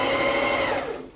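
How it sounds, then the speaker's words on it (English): Sewing machine top stitching a fabric top, a steady close whirring run that holds for over a second before easing off slightly at the end. "Top stitching to make it lovely and neat on the inside."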